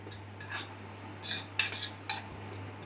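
Semolina (rava) roasting in a pan, being stirred with a spoon: a few soft scraping and clinking strokes of metal against the pan, separated by pauses, close and fairly quiet over a steady low hum.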